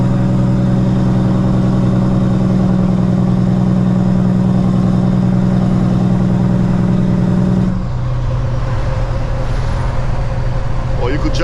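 A heavy truck descending a Virginia mountain road gives a loud, close engine drone with a steady low rumble that shifts to a rougher, lower pattern partway through as the engine brake takes hold.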